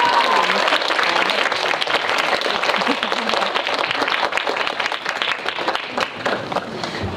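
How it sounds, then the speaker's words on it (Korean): Loud, dense applause fills a film screening Q&A hall as an audience welcomes two actresses, a steady wash of clapping throughout with crowd murmur beneath. "박수로 환영해주세요"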